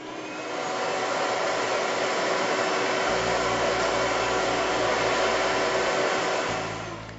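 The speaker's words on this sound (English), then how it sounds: "Just plug in your large vacuum cleaners and all your sawdust and junk will disappear." A large vacuum cleaner sucks up sawdust with a steady, loud, broadband whooshing roar that holds evenly for several seconds, with no talking over it.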